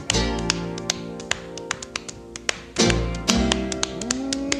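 A 1950 record plays with sharp rhythmic pops and taps, like a shoeshine rag snapped in time over the band's steady backing.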